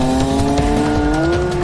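A Wiesmann MF3 Roadster corners hard with a loud, sustained tyre squeal whose pitch rises slightly, layered over a steady engine drone, close and without any talk.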